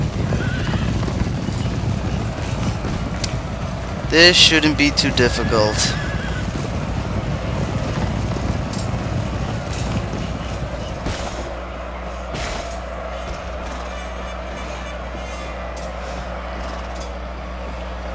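Cavalry horses whinny and hooves clip-clop in a battle of the Empire: Total War video game, a sharp neigh standing out over steady galloping and rumble, with someone talking over it before the noise settles into a low hum.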